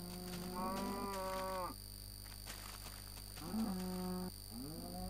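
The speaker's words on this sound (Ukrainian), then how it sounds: "Коровки." Cows moo in the Minecraft video game with drawn-out, nasal calls, one long moo and then a couple of shorter ones, fairly close, over a steady background hum.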